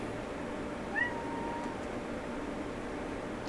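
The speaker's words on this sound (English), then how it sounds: "Sorry, we had the interruption of a cat." A single short meow from a cat named Fonzie sounds faintly about a second in, set against a steady room hiss in a quiet indoor space.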